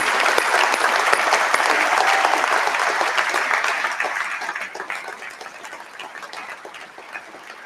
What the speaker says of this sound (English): May I ask us all to give him a round of applause to thank him for his service to the university.